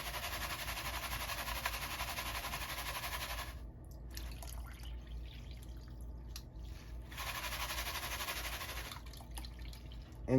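Miners Depot paydirt panned for gold in water: two long stretches of steady sloshing, splashing water with a quieter, gritty swirling interval between them and a knock at the very end, no talking.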